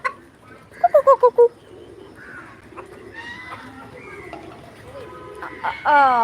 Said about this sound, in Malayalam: പ്രാവേ പ്രാവ് വന്നു പ്രാവ്